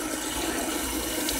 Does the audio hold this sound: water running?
yes